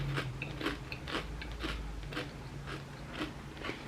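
Close, crisp crunching as a chip loaded with cucumber dill garlic dip is bitten and chewed, a quiet run of repeated crackling bites in a steady rhythm.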